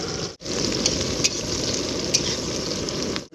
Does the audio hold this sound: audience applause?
no